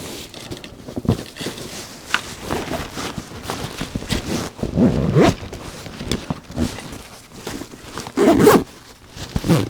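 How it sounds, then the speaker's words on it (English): A zipper on a bag or pouch holding a tablet and folio is pulled closed in several bursts of rasping strokes, close and fairly loud, with some handling rustle between pulls and no talking. "Zip it on up"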